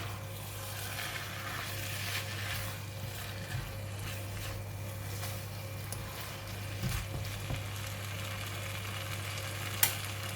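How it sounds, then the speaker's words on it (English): Steady sizzle of pumpkin stir-frying with minced pork and eggs in a pan, continuous and close, with a constant low hum underneath and faint stirring scrapes. "I'm going to put in the meat and the egg that we keep just now. Just stir it in."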